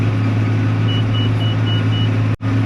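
A farm vehicle's engine chugs along a cul-de-sac road as part of a grain operation, a loud, steady low rumble close by with a brief cut near the end.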